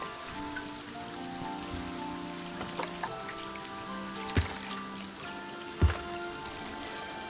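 Flowing river water in the video game Planet Zoo, a steady trickling, rain-like wash with ambient tones and a few brief louder clicks, no talk.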